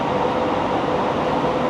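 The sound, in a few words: metro train at platform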